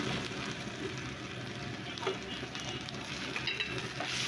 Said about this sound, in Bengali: রসুন পেস্টটাকে আমি একটু কষিয়ে নেব যেন রসুনের কাঁচা গন্ধটা না থাকে